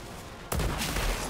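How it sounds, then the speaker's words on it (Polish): Gunfire in the sci-fi shooter Outriders: after half a second of quiet, a loud burst of rapid shots erupts and continues as dense, sustained firing to the end. "Dobra, postrzelajmy sobie."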